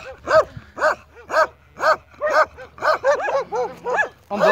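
Fierce stray dogs bark in a rapid run of about a dozen sharp, loud, close barks, the later ones overlapping as several dogs join in, with a faint whimpering tone underneath.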